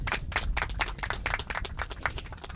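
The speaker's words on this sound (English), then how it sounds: "John Cochran led the applause there" A small group at an outdoor community gathering for a skateboard park claps in quick, distinct bursts, close by and fairly sparse rather than a roaring crowd.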